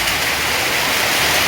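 Steady outdoor rainfall hisses continuously and densely, with no voices over it.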